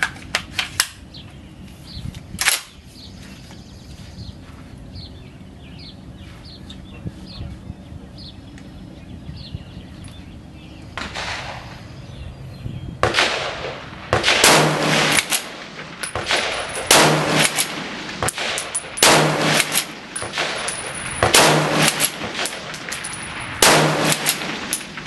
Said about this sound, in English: We're just going to run 5 into a steel plate downrange real fast, pretty much as fast as I can run the bolt on this thing